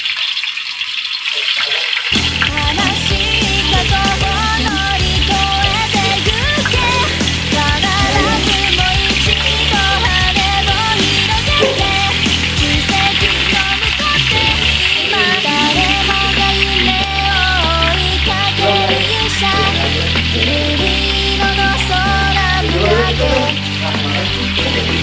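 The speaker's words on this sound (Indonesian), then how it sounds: "Selanjutnya goreng tahunya." Tofu fries in a pan of oil for ketoprak, a loud, continuous sizzle and crackle that holds steady and close throughout, with occasional faint clinks over it.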